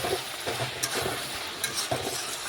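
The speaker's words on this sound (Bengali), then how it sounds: "দেখুন আমি ভালোভাবে সবজিটা একটু মশলার সাথে কষিয়ে নেব" Ridge gourd sizzles with spices in a pan, cooking in its own released water. A close, steady hiss is broken by a few sharp scrapes from stirring.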